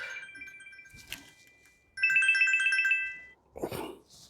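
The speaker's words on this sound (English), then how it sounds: "Sorry, that was my phone ringing." A mobile phone rings in a room where an air rifle spring is being weighed, with bright electronic ringtone bursts separated by pauses and ending in a short clatter.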